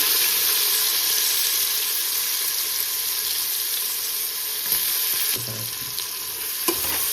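Sliced onions and green chillies fry in oil for an egg pulao, giving a dense, continuous close sizzle with a few soft scrapes of a stirring spoon near the end.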